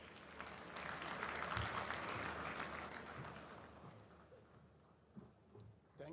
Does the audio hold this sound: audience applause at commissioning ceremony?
yes